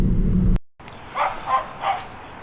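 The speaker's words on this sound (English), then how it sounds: "Stupid dog, oh my God." A dog barks three times in quick succession, mid-distance and fairly loud, after a loud low car-interior rumble from a Bentley GTC cuts off.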